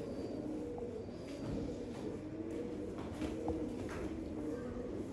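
Pigeons cooing softly in a loft in Mirpur, Azad Kashmir, a steady low murmur of several birds with brief higher calls scattered through, fairly close and continuous.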